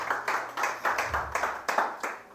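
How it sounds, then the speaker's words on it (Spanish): A small group claps in an even rhythm, about eight or nine close, moderately loud claps in a little over two seconds, with no voices over them. "Tal vez nos hacen favor de aplaudirle ahí para que Danielito esté contento."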